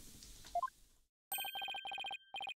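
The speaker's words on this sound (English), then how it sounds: "Sorry, phone, stop." A phone rings in short electronic bursts with brief gaps between them. A few rising tones are heard first, then silence before the ringing starts.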